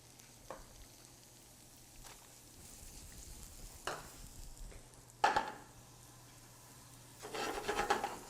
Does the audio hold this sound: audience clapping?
no